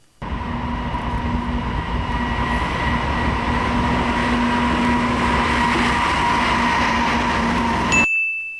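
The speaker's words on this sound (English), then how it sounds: "This is the Norfolk Southern Train 11R, an East Deerfield, Massachusetts to Spencer, North Carolina train" Norfolk Southern freight train 11R, led by locomotive 9800, rumbles past loudly and steadily with a broad roar and a sustained tonal hum, cutting off abruptly near the end.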